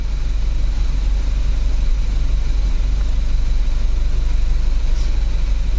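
A car engine idles steadily after being restarted, a loud continuous low rumble with an even hum and no talk over it.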